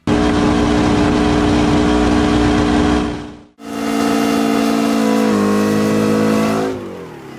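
A Detroit Diesel 8V71 engine gives a loud, steady roar with a rough, throaty growl, briefly cutting out midway before restarting and running on, then easing off at the end.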